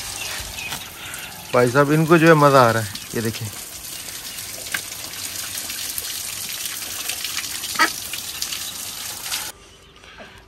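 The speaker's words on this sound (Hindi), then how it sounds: "इनके पिंजरे में हल्का हल्का सा पानी लगाते हैं" Water is splashed onto a cage of Japanese chickens in hot weather, making a steady near splash and trickle that runs for several seconds. A person talks over it and a short bird call cuts in early.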